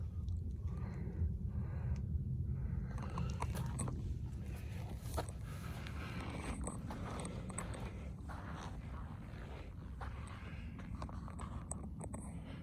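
A 2001 Mirage driving under its own power, a steady low engine and road rumble from inside, with faint clicks and knocks over the drone, no talking.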